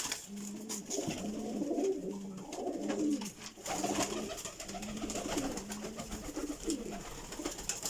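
High-flying Rampuri pigeons coo in a breeding loft in soft repeated throaty phrases, several birds overlapping in a steady rhythm, close by and fairly quiet.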